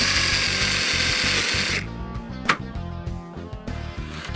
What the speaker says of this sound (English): Firstly, I'm going to make 7 holes, because I need to do it before making circles.